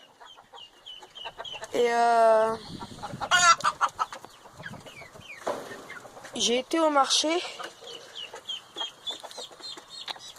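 Chickens cluck and a rooster calls in bursts nearby, while a person speaks briefly over the farmyard noise.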